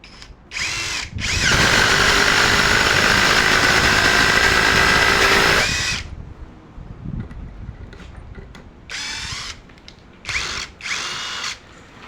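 A Prostormer 17V cordless impact driver runs at speed setting 3, a loud steady whine for about four seconds, preceded and followed by shorter bursts of driving, all close to the microphone with no voices.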